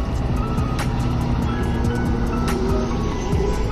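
A local transport car on a mountain road in Kishtwar, Jammu and Kashmir, with its engine humming steadily and close by, plus road rumble throughout and no talk.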